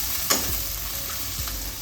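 Small hot green chillies frying with onion in a pan, a soft steady sizzle with a spoon scraping and stirring through it twice.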